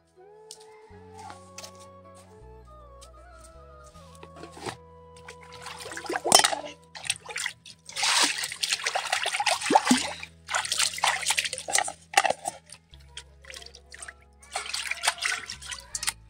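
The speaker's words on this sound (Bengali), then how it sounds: "টিফিনটা ধুয়ে নিচ্ছি।" Tap water running and splashing while a tiffin box is washed in a kitchen, intermittent trickles and splatters that grow louder and busier midway, with a faint background hum.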